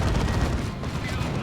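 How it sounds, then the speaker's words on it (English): Blastmaster and plasma cannon fire in the game Dawn of War 2, a dense continuous barrage of booming blasts and explosions throughout, loud and close, with speech partly mixed in. "That was a really good Blastmaster shot."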